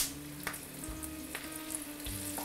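Chicken pieces fry in hot oil for a Taiwanese-style crispy fried chicken, a steady dense sizzle with crackling pops and occasional stirring knocks, close and continuous with no talking.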